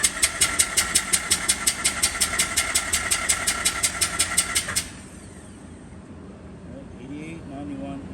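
A Mazda RX-8 R3 rotary engine cranks on the starter during a compression test of the front rotor, giving a fast, even string of loud chugging pulses for about five seconds before it stops and leaves quiet room noise.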